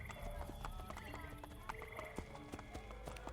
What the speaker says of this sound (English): Don't start me right in front of a horse.